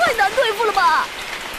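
Rain falls in a Chinese-language action video game, a soft, continuous hiss heard beneath a prominent voice that talks over it throughout.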